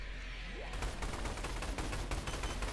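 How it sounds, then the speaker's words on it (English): Rapid, continuous gunfire from the video game Orion: Dino Horde rattles on as a dense, loud burst of repeated shots, with a brief lower game sound near the start. "We're both using the same gun. It's just like so much noise."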